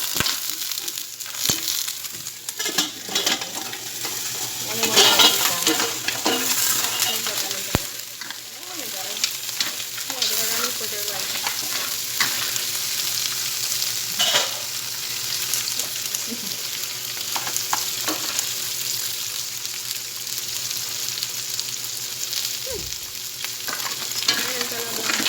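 Live mud crab frying and being stirred in a pan with spices, a steady sizzle broken by scraping stir strokes throughout, close and fairly loud, with no talking.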